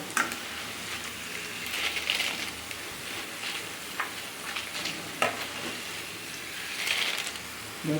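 Kaara boondi, droplets of spiced batter, sizzles steadily in hot oil, with scattered sharp clicks and scrapes from stirring breaking through the continuous frying hiss.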